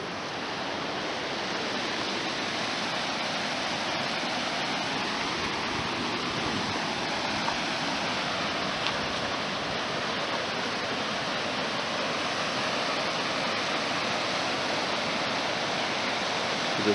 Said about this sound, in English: There's waterfalls coming down from those melting snows.